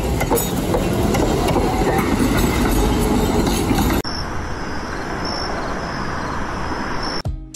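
An old tram rumbles steadily past through the city streets of Vladikavkaz with a continuous roar of wheels on track, loud and close, quieter after a sudden shift midway.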